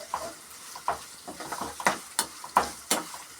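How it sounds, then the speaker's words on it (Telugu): Sliced onions fry in oil for a spicy potato fry, a soft continuous sizzle broken by several sharp spatula scrapes and taps against the pan, close and fairly quiet, with no talking. "ఉల్లిపాయ ముక్కలు వేసిన తర్వాత అలా వేపుకోవాలి."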